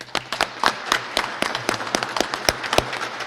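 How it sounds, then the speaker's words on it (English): Scattered, fairly sparse claps ring out from a small audience at a Harrisburg police award ceremony, individual hand claps distinct and moderately quiet rather than a dense roar. "Let's give them a round of applause."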